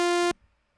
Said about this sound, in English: It's a simple sine wave.